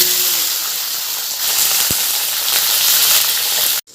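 Green chillies fry in hot oil for a bottle gourd chutney, a loud continuous hissing sizzle that swells midway, with one brief knock before it cuts off abruptly at the end.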